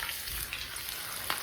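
Onion and chapati pieces fry in a pan, giving a steady close sizzle with a faint clink near the end and no speech.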